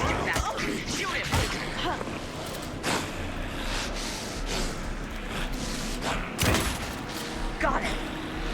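Gunfire and combat noise in the Alan Wake video game, with several sharp shots spread across a busy mix under talking voices.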